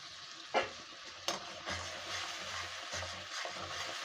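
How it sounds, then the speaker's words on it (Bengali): Spice paste for a vegetarian jackfruit curry sizzles steadily in a pan as it is stir-fried, with a couple of sharp scraping clatters of the spoon early on and continuous frying hiss throughout, close and moderately loud. "এবারে মশলাটাও কষছি আমি"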